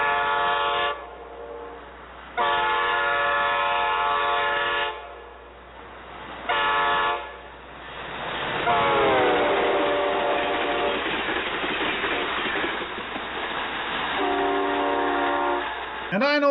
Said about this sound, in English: I know exactly when that train is the closest it gets to my window